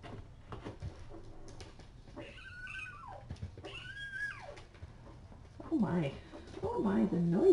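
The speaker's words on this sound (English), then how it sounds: "We're going to do some kitty wrestling." Young kittens wrestle together, letting out several short meows and squeals at close range, with scuffling sounds and a person talking softly over them.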